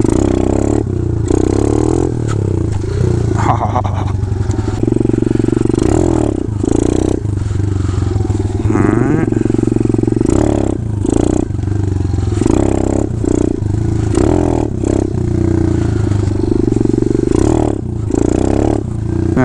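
Motorcycle engine revving hard and repeatedly while the rider performs clutch-kick wheelies, loud and close, with sharp surges and drops in rhythm and some clattering and scraping between bursts.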